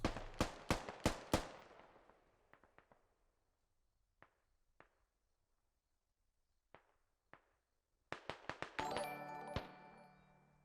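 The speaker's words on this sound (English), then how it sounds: "the frag rocket just flying by" A frag rocket flies past during a Squad match in a war video game, amid a rapid volley of sharp gunfire cracks, scattered distant shots, then a dense burst of loud blasts and a whooshing roar.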